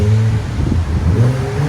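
A 2019 Infiniti Q50 S AWD with a 3.0L twin-turbo engine and Flowmaster FlowFX exhaust revs briefly up and back down twice, a loud, close, deep growl with rising and falling pitch.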